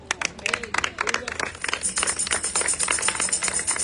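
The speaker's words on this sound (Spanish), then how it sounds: "Un aplauso al Rey" Church congregation clapping for the King during a Spanish-language sermon, a dense burst of many hands with some cheering voices mixed in, steady and fairly close throughout.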